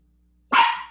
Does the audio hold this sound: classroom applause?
no